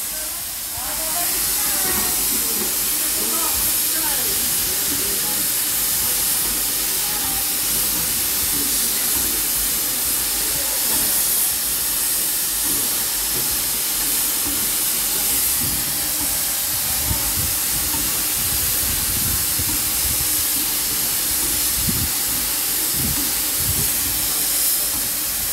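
Steam locomotive hissing steadily at a heritage railway platform on the Bluebell Railway, a continuous broad hiss with rumbling low-end activity, close and loud throughout.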